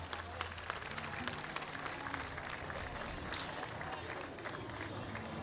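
A crowd at an outdoor romería pilgrimage procession in Arinaga claps steadily, a dense continuous wash of applause with scattered voices mixed in, moderately loud throughout.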